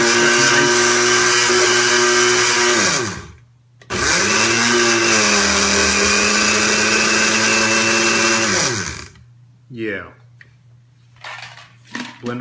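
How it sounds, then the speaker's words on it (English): A food processor whirs loudly as it blends a superfood mix, running in two long bursts separated by a short pause, then stopping, followed by a few faint kitchen clatters. "We gotta push this down, and we're gonna go food processor."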